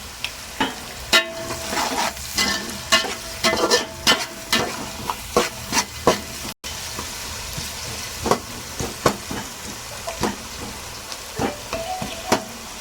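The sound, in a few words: onions frying in pan for veg pulao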